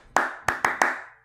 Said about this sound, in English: I tried to do the claps,